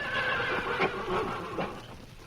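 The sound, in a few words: black horse neighing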